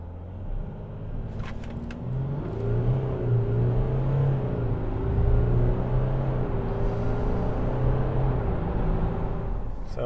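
A large car accelerates hard through a 0 to 60 test, engine building from a low rumble into a rising, strained roar with gear-shift dips, steady and close, no talk.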